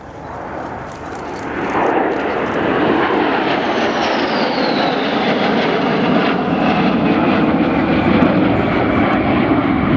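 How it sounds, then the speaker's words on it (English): A pair of Su-22 Fitter swing-wing fighter jets pass at an air show, a loud roaring jet engine rumble that swells and holds with a sweeping whine, heard from the ground. "highlighting the arrival for the first pass of the two Su-22s"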